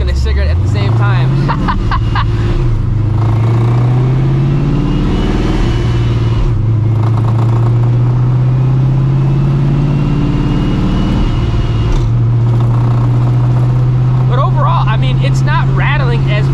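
A supercharged Procharger-equipped New Edge Ford Mustang GT with a drivetrain rattle accelerates and cruises, its engine climbing in pitch then settling into a loud, steady drone, with talk over it at times.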